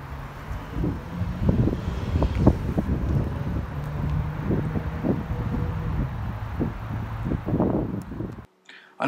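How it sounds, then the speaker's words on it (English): Strong gusty wind buffets the microphone outdoors beside a 2019 RAM 2500 Big Horn V8 pickup, a continuous low rumbling roar with irregular thumps that cuts off abruptly near the end. "Unfortunately, it was really windy the day I did this video"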